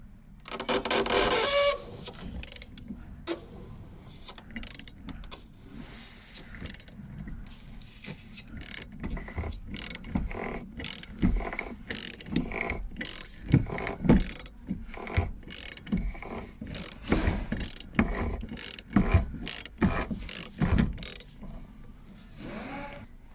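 Half-inch ratchet turning on the fuel pump sleeve of a Toyota Yaris in-tank fuel filter, rapid clicking pawl bursts in short repeated runs, close and dry, with pauses between strokes.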